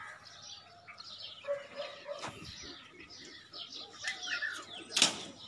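A pigeon flies at a pigeon-flying tournament, with wing flaps and scattered chirps heard faintly from a distance. There is soft background murmur and one sharper burst near the end.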